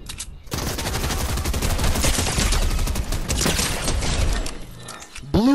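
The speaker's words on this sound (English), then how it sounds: "I only used a blue assault rifle and just beamed the crap out of you" Rapid, sustained automatic fire from a blue assault rifle in a free-for-all shooter match, a dense close burst running several seconds with brief mechanical clicks at the very end.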